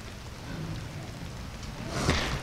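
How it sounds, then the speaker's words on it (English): Rain falls on a garden bed covered with cardboard weed barrier, giving a dense, close patter of drops that swells a little louder toward the end. "it's starting to rain in here"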